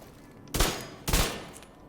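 Dark Winter submachine gun from The Division 2 firing at 1200 RPM with the Killer talent active: two short, loud bursts of rapid gunfire about half a second apart, each cutting off sharply, over a quiet background.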